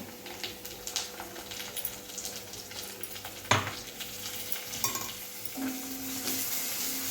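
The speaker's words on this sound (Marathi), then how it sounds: "आणि हे व्यवस्थित मिक्स करून घ्यायचं" Fried onions with a spoonful of ground masala paste are stirred in a pan while cooking bitter gourd: a steady low sizzle with scattered scrapes and one sharp clink of the spoon against the pan.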